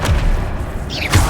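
Confringo fire spell explosion in the video game Hogwarts Legacy, a short deep boom with a thudding low impact and a brief whooshing tail, loud and close.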